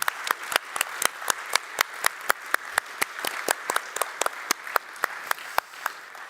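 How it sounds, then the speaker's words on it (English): Audience applause at a conference's closing session: a steady run of sharp, evenly spaced claps fills the room with no talk, sounding like a crowd clapping together at moderate loudness. "A big final applause and then we leave."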